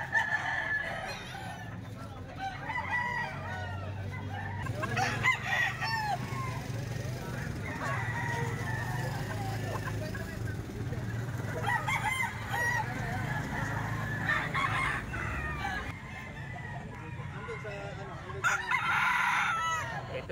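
Several roosters crow repeatedly at varying distances over steady clucking from a flock, with voices talking in the background.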